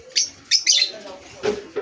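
Several sharp, high chirps in quick succession from pet birds in an aviary, with a low cooing note and soft background murmur beneath.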